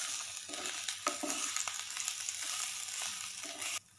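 Cauliflower masala curry is stirred in a pan, a soft steady sizzle broken by repeated scraping and stirring strokes of a spoon, close and moderately quiet, ending abruptly.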